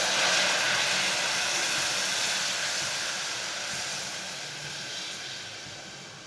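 Milk poured into a pan of simmering sugar and tea leaves for chai gives a steady, loud hiss and bubbling that fades slightly toward the end, with no voices.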